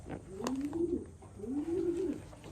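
A racing pigeon in its loft gives two soft, close cooing calls, each a rolling low coo, with quiet background rustle.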